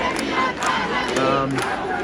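A large, vocal crowd of protesters at an Iranian protest at Sydney Town Hall chants and shouts in a loud, continuous roar of many voices.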